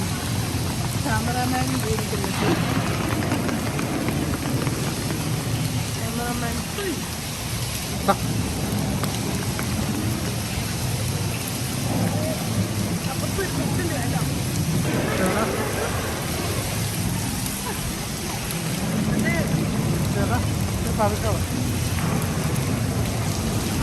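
Heavy rain pours steadily onto a street in Sharjah during a thunderstorm, a constant hissing wash with low rumbling underneath, while a voice talks intermittently over it.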